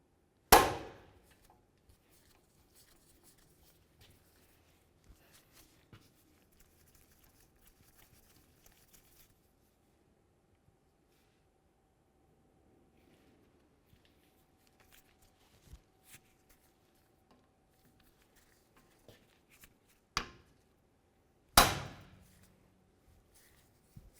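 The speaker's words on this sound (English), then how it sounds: "it's going to be easiest using an impact driver and a hammer" A few loud, sharp hammer blows on metal while freeing a brake rotor from the hub on a 2002-2006 Honda CR-V, one at the start and two close together near the end, separated by a long quiet stretch with faint clinks.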